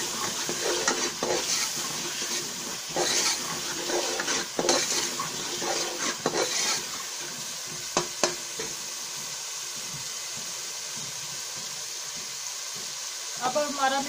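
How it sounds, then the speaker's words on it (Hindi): Masala fried with whole and chopped green chillies for a spicy black masoor dal, sizzling steadily in the pan while a spoon stirs and scrapes at intervals, close and moderately loud. "अब हमारा मसाला भुन चुका है।"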